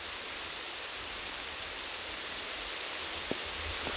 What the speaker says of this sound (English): Check out the size of those raindrops.